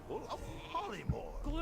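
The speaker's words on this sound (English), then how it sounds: "No, I'm a sheep." Sheep bleating in the World of Warcraft video game, short wavering bleats blended with a person talking over them.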